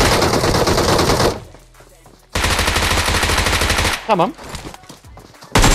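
Bizon submachine gun firing in a shooter game, two long loud bursts of rapid automatic fire separated by a quieter gap, with a voice speaking briefly near the end.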